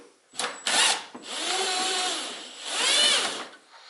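A power drill whirs in several short bursts while loosening a bolt on a Hustler mower seat deck, the motor pitch rising and falling, close and moderately loud with no talking.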